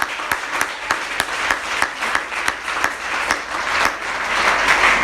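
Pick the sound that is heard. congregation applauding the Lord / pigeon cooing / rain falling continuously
congregation applauding the Lord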